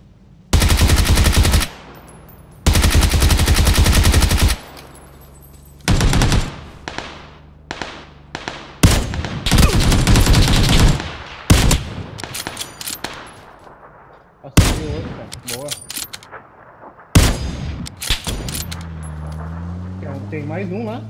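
Rapid automatic bursts and single gunshots from PlayerUnknown's Battlegrounds gameplay, loud and close, long sustained volleys breaking into scattered shots and thuds, with occasional game sounds between.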